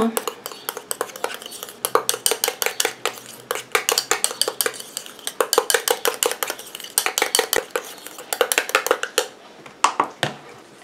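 A utensil clinks and scrapes rapidly against a bowl while mixing a homemade aftershave cream, a brisk, close run of repeated taps that stops abruptly near the end.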